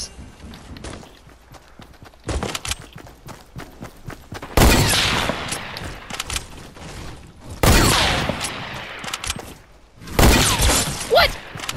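Video game gunfire comes in loud bursts of rapid shots, three heavy volleys separated by quieter clattering and clicks.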